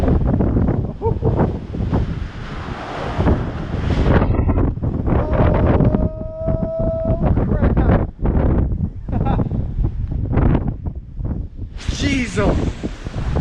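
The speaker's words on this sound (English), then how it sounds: "I just want to show y'all the hair action if I can get another good gust." Strong gusts from Hurricane Zeta roar and buffet the microphone almost without pause, loud and close, with rustling and a brief quieter lull, while a person talks now and then underneath.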